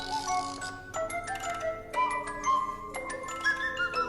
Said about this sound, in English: And then the cuckoo clock is the melody here.